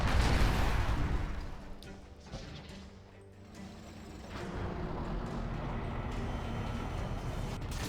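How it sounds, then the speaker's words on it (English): Super weapons firing in a large Generals Evolution battle: a loud rumbling crash fades into a lull, then a sustained roar of distant blasts and battle noise. "So many super weapons firing off in the last minute."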